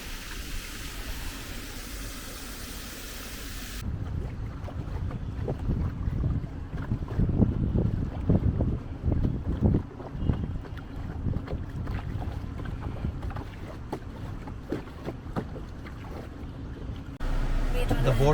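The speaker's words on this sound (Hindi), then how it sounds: "The boat ride was nice," Motorboat ride on the water near Srisailam dam, a steady engine rumble mixed with wind buffeting the microphone and splashing water, with people talking over it.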